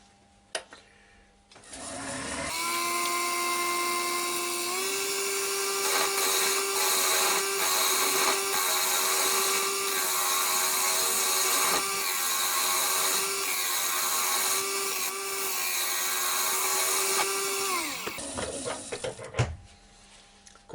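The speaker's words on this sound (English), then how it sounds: "So I'll carry on hollowing this lot out." A wood lathe hollows out an ash lidded box with a steady, loud motor whine and a gritty cutting hiss that run for about fifteen seconds, shifting pitch slightly, then spin down, with a few knocks on either side.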